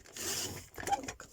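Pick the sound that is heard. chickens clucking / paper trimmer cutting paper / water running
paper trimmer cutting paper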